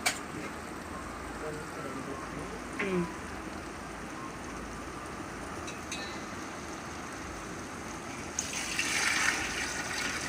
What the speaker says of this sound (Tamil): அந்த அளவுக்கு டபுள் மடங்காக தண்ணி ஊற்றிருக்குறோம்.